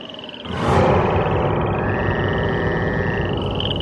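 Frogs croak in a dense, loud chorus of rapid overlapping calls that carries on steadily, with a higher trilling croak riding over the low throaty pulses and no voices.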